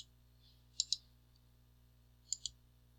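A computer mouse clicks twice in quick succession, pauses, then clicks twice more while the user works in a software platform, producing sharp, close, quiet ticks over a faint electrical hum.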